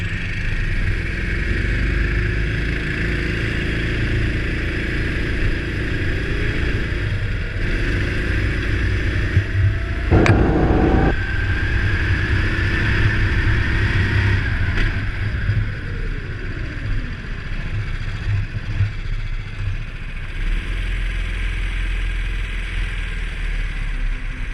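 A racing kart at Trets runs a warm-up for its tyres, its engine droning steadily throughout with pitch rising and falling, plus a passing whine from another machine midway.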